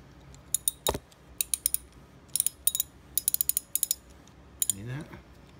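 A gator wrench with a universal self-adjusting socket ratchets a nut: close, crisp ratchet clicks in quick bursts of two to five, with short pauses between strokes and a brief low creak near the end.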